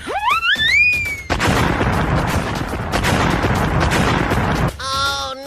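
Gunfire from the Siren Head gun monster in a video game: a sustained, loud burst of rapid shots lasting several seconds, preceded by rising whistling tones and followed by short warbling electronic chirps.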